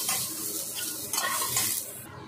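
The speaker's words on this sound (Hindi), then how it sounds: "अब इसे थोड़ी देर फ्राई करूँगी" Drumstick pieces frying in hot oil in a home kitchen pan, giving a steady crackling sizzle with a few light scraping and stirring clinks, fairly quiet and without speech.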